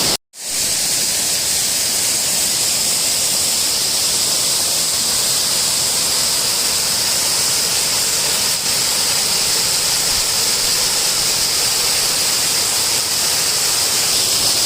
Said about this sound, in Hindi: यहाँ पे झरने का निर्माण करता है।